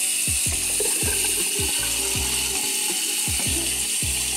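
A small spray bottle's trigger is pumped again and again, making a rapid rhythmic run of clicking squirts as water is sprayed over vegetables for a crock pot stew.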